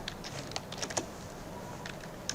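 Rapid, irregular keystrokes on a computer keyboard while code is being written, crisp and close with short pauses between bursts.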